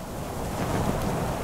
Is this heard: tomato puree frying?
no